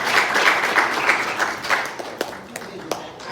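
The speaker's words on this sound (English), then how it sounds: "Please, another round of applause." Applause for panelists at the Afro Future Summit 2023, a broadband patter of clapping that thins out toward the end into scattered individual claps, with some talk mixed in.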